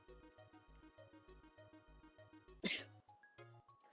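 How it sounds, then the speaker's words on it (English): A single sharp human sneeze bursts out near the end, loud and close over soft, rhythmic background music. "Sneeze."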